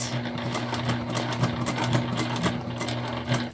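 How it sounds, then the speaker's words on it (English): Sewing machine top stitching a leopard-print tote bag, a steady close mechanical hum with rapid rhythmic needle clatter running continuously at a moderate level, no talk. "we're going to do a top stitch all the way around"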